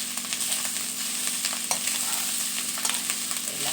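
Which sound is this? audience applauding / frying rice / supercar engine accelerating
frying rice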